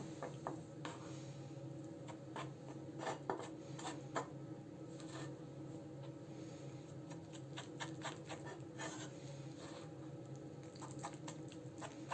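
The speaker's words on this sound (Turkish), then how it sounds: "50 gram un, yine 50 gram suya ekliyorum ve karıştırıyorum." A spoon scrapes and taps softly in a jar while flour and water are stirred into sourdough starter, giving faint, irregular clicks and rubbing over quiet background hum.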